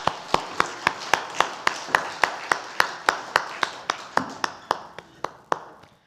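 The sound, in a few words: congregation applause in church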